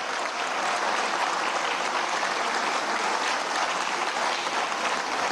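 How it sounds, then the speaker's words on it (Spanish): Sustained applause from the members of Venezuela's National Assembly honouring Paralympic athletes, a broad, even wash of many hands clapping together, loud and unbroken from start to finish. "Yo quiero iniciar dándole un fuerte aplauso a nuestras heroínas y nuestros héroes"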